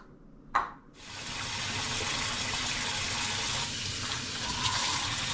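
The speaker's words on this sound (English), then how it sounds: "I just put some water in here to just sterilize everything" After a brief clunk, water gushes steadily into an Instant Pot, a continuous rushing pour that stays even to the end.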